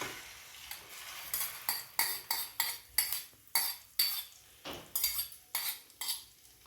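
Omelette egg mixture hitting hot oil in a pan, heard as a series of sharp spatula or utensil taps and scrapes in an irregular rhythm, close and fairly quiet, with no talking.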